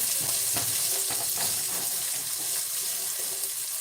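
Cajun vegan corn and quinoa chowder simmering in a pot over medium heat, a steady, close, even hiss with soft bubbling texture and no talking.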